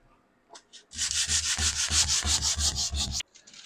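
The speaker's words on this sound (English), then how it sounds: "Try sanding." Rhythmic sanding strokes, about eight back-and-forth rubs in quick succession, loud and close, with a few faint scrapes before and after; heard while installing a new toilet with a wax ring.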